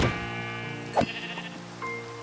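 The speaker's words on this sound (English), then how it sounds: "Well, there's our missing sheep." A sheep bleats in the video game Minecraft, one short wavering bleat near the middle heard over steady background music, clear and close.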